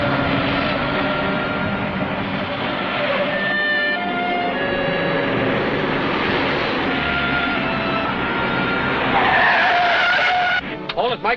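A car skidding during a chase in a 1940 Green Hornet film serial, tires squealing in a long, loud, continuous screech over engine roar and ending in a few abrupt bumps.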